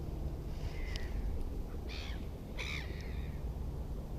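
Crows being fed in woods give a few harsh caws, two or three spaced calls close by over steady low background rumble.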